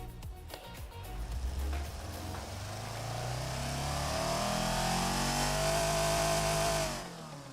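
A race car engine in the Automation video game winds up during a dynamometer pull, its pitch climbing steadily for several seconds before the rev cuts off abruptly. The engine sound is loud, sustained and alone, with no talking.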